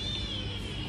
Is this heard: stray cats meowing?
yes